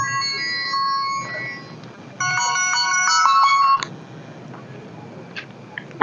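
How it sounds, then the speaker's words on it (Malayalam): A mobile phone ringtone plays a bright electronic melody, first in softer repeated phrases, then in a louder burst of layered tones that cuts off abruptly, followed by a quiet room. "എന്റെ ഫോൺ അടിച്ചിനാവോ"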